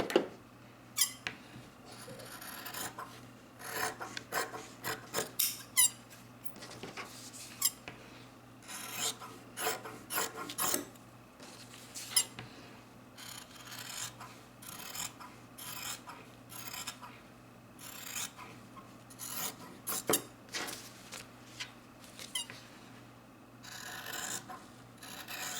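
Scissors cutting out a fabric face mask piece, making repeated short rasping snips and rubbing sounds in an irregular rhythm, close and fairly quiet, with no talking.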